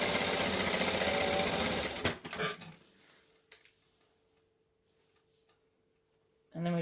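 A sewing machine stitches fabric in a fast, steady mechanical rattle for about two seconds, then stops, leaving a faint hum before a brief burst returns at the end.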